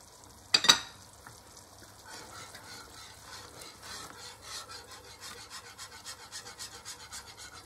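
Chicken with mustard stirred in a pan, a soft, steady rhythmic scraping and gentle sizzle, quiet and close, following a brief sharp clatter at the start.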